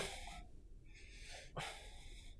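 Heavy, rhythmic breathing from a person bouncing on an exercise ball while playing VR poker; close, huffing breaths and snort-like exhales in bursts, with no speech.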